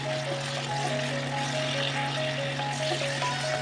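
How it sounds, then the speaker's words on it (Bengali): Vegetables salted and stir-fried in a pan for chicken cheese rice give a steady, even sizzle with a faint hum underneath, continuous and close throughout, no talking. "দিয়ে ভালো করে সবজিগুলো ভাজবো।"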